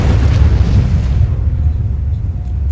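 An explosion in the video game Fallout 4 fills the clip with a loud, sustained low rumble and roar that starts broadband and thunderous and then settles into a heavy low-end rumble, heard with no talk over it.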